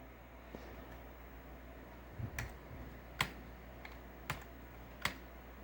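Quiet computer keyboard typing at a desk: a few sparse, isolated key clicks spaced about a second apart over a low background hiss, with no voices.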